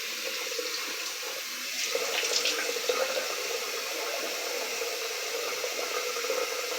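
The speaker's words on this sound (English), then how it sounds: "I'm going to rinse my head off now. Get some fresh water going." Tap water runs steadily into a sink to rinse a freshly shaved head, a continuous broadband splashing hiss at close range with a brief louder gush of spray partway through and no talking.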